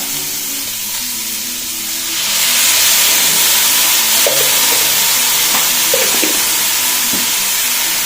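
Sliced onions sautéing with salt in hot oil for a Kerala-style pork fry, a steady close sizzle that swells louder after two seconds, with occasional stirring scrapes and light clinks.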